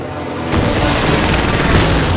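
Airstrike explosions in Call of Duty: Modern Warfare roar as a dense, continuous barrage of booms and crackling blasts, loud and close, swelling after a half-second lead-in and holding to the end.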